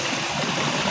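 Water rushes steadily into a farm field, a continuous loud gushing flow over a brief moment with no talk.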